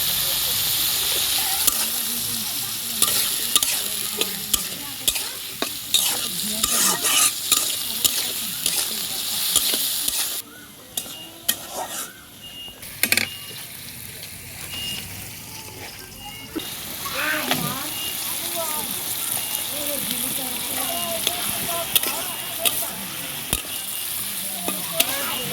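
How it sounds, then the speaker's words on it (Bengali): Mashed taki fish with turmeric frying in a pan, dense continuous sizzling with frequent scraping and stirring strokes, a brief quieter lull midway, close and loud. "একটু নাড়াচাড়া করে নামাই নেবে।"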